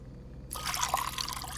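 Water pours steadily in a first-person horror game set in a house with a crawl space, entering after a quiet start as a close, continuous trickling splash.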